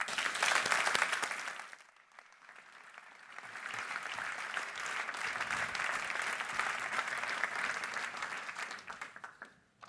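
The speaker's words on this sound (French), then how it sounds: "je vous demande d'applaudir pour leur discours Madame le bâtonnier Caroline Lavessière" An audience at a formal bar association opening ceremony applauds after speeches by the bâtonnier and vice-bâtonnier: a burst of sustained clapping, a brief dip, then a second long round of dense applause from a large hall.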